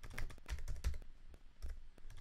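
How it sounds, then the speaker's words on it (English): Quick, light tapping on a computer keyboard, a short burst of close keystrokes in an uneven rhythm, fairly quiet, with no talking. "Ooh, I gotta type it in."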